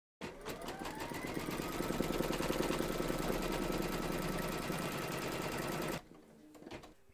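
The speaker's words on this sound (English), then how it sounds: "Pop your hoop in and then you're going to stitch round number 1, and that's going to give you a placement outline for the batting." An embroidery machine stitching a placement outline on an in-the-hoop towel topper, a fast, steady mechanical needle clatter running continuously for about six seconds, close and loud, then stopping abruptly.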